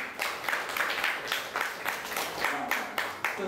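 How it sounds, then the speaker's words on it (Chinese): A small group claps in a lecture on community service, with quick, fairly even hand claps that rise and fall in bursts and a voice speaking over them. "掌声鼓励一下"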